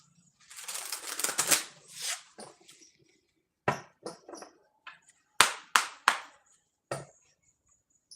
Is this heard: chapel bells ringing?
no